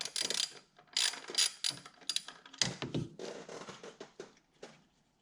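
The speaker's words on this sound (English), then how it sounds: "Now I'm gonna remove this bolt right here." A ratchet works a bolt loose on the air intake of a Dodge Challenger Hellcat, giving quick bursts of close mechanical clicking. The short ratcheting strokes are broken by brief pauses and a few scrapes or knocks, with no talking.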